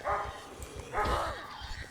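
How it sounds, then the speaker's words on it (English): Dogs bark repeatedly in the zombie survival game Project Zomboid, with several short yapping bursts at moderate loudness amid busy combat noise. "now we have dogs barking and lots of stuff going on"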